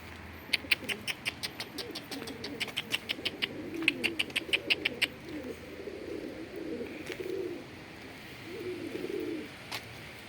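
Pigeons coo in soft, low repeated phrases at close range, while sharp rhythmic clicks and taps run through the first half.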